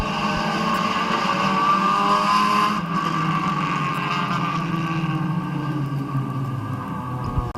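Race cars roar around the oval at Midvale Speedway in turn 3, a loud, dense engine drone that stays steady throughout, with a shift in pitch partway through as the pack sweeps past.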